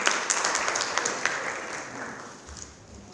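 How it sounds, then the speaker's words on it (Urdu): A church congregation claps for the Holy Spirit during a service, a dense burst of applause that gradually thins and fades over about three seconds. "آئے ہم پاک روح کے لیے بھی تالیاں بجاتے ہیں۔"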